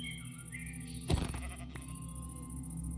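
A Minecraft sheep gives a single short bleat, mid-loud and centered in the clip, set against a steady hum of game background sound with no voices.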